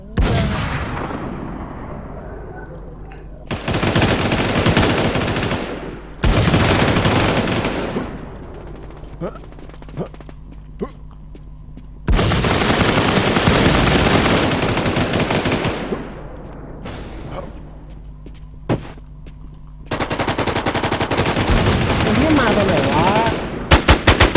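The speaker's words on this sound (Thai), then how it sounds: "ยิงลงตึกดีกว่า" Rapid bursts of automatic gunfire from a shooting video game crackle loudly in several long volleys separated by short gaps, with scattered single shots and a player talking between them.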